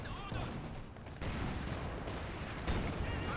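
Panzer IV tank cannon fire amid a chaotic 4v4 battle on the Port of Hamburg map in Company of Heroes 2, dense bursts of gunfire and explosions layered under a commentator's voice.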